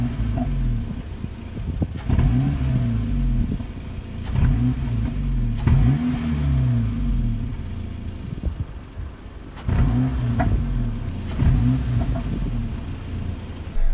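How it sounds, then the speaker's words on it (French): Honda Civic Type S, eighth generation, revved at a standstill: close, loud engine bursts whose pitch climbs and falls repeatedly over a steady idle rumble, with no talking. "je te mets un petit coup de gaz quand même pour terminer tout ça"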